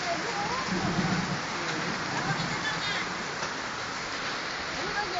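Hail falls hard and steady, a dense continuous pattering on surfaces with occasional faint voices underneath.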